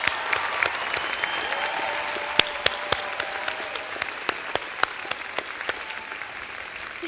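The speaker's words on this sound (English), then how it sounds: "Please join me in giving me the biggest applause you could from the bottom of your heart" Applause at an NYU Silver School convocation for the class of 2017, a steady dense wash of clapping filling the hall with occasional sharper individual claps standing out, sustained and fairly loud throughout.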